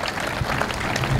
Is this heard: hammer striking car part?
no